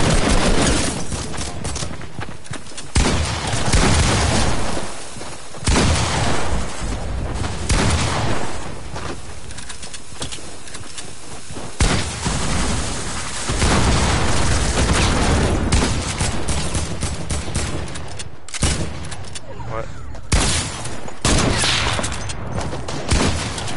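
Rapid gunfire from a battle-royale shooter game rattles loudly and closely in dense bursts with a few short pauses, over about twenty seconds with no voices.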